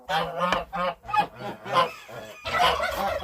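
Geese honk repeatedly on a farm where they are laying and sitting on eggs, with loud, close, irregular bursts of harsh calls overlapping one another and no talk.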